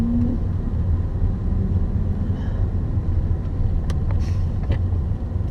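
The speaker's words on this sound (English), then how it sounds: "So this is actually his 2014 Dodge Challenger" A 2014 Dodge Challenger drives along with a steady, loud, low engine rumble and road noise throughout, heard from inside or close by, with no speech.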